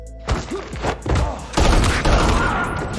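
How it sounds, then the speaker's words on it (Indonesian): Gunfire in a film shootout comes in loud, dense bursts of shots and thumps, building into a sustained barrage. "Sehingga terjadilah baku tembak."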